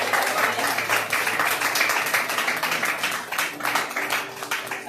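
A church congregation claps for Jesus during worship, rhythmic hand clapping close and lively over sustained voices and a low musical hum, keeping a steady beat throughout.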